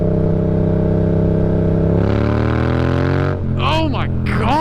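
A 2018 Yamaha MT-07 motorcycle pulls hard in third gear, its engine note climbing in a loud, steady rising drone up close, then an upshift drops the pitch and it keeps winding up again.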